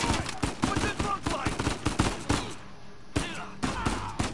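Rapid gunfire in Uncharted 4, a run of sharp, loud shots fired in quick bursts with brief gaps, set against in-game background noise.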